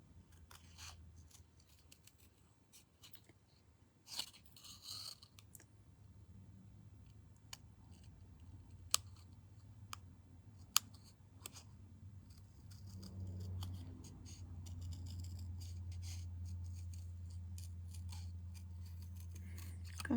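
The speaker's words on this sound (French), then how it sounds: "Et là, je vais juste découper" Scissors snip through a paper card to cut out a calligraphy wish, producing sharp, close clicks and crisp snips spread across the clip over a low steady hum.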